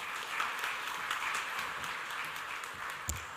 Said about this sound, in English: Ladies and gentlemen, once again, a round of applause for him.